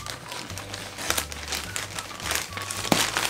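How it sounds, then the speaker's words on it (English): Plastic crinkles and rustles in short bursts as a bag is handled and opened, close and fairly quiet, with a low hum underneath. "we're just going to open the bag"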